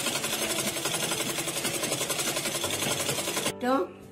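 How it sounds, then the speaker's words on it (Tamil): Sewing machine running steadily while stitching a skirt, a continuous fast mechanical whir and rattle that stops near the end, followed by a brief spoken voice. "இப்படி ஃபுல்லாக தச்சுக்கணும். கீழே மேலே 2 சைட்லையும் தச்சுக்கணும்."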